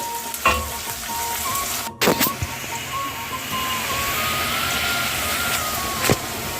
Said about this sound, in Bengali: পেঁয়াজটা লাল লাল করে ভাজবো